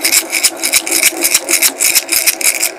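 Homemade bottle rattle filled with pasta, shaken close in a regular rhythm, giving loud repeated rustling rattles, each burst crisp and evenly spaced for nearly three seconds.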